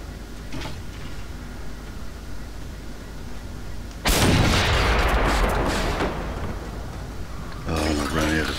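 Heavy gunfire booms from a turret in the video game Generation Zero, a sudden loud blast after a rumbling stretch, followed by a second burst of fire near the end.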